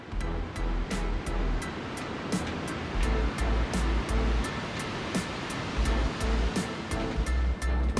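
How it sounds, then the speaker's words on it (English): Heavy rain pouring down steadily on the Everest Base Camp trek, a dense continuous hiss with a regular low pulsing beneath it, close and unbroken throughout. "It was miserable, pouring rain the entire time."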